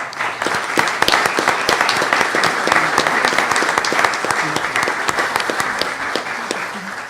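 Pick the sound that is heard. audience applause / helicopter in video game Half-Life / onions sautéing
audience applause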